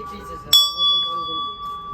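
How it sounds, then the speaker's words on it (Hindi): A metal bell at a furniture market in Amar Colony, Delhi, is struck once and rings out clearly, its bright tone sustaining and slowly decaying as someone talks over it. "इस घंटी की आवाज़ देखिए,"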